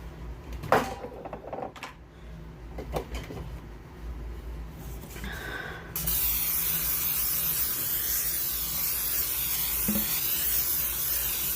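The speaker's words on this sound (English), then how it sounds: "this is olive oil spray" A steady, prolonged hiss of olive oil cooking spray starts partway through and continues to the end, close up, after some quieter handling noises.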